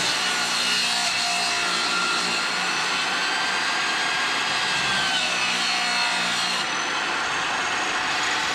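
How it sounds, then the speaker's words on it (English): A table saw rips a wooden board outdoors with rain falling, giving a steady, loud, continuous whine and rasp of the blade through the wood from start to finish, with a slight drop in the upper tone near the end. "I want to rip the board down to this thickness"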